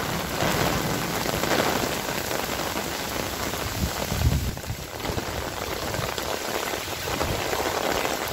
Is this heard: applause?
no